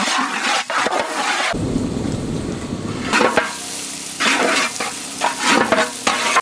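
Oil sizzles and crackles steadily as chopped onions fry in a pan, with occasional stirring scrapes and bursts of louder spitting, close by.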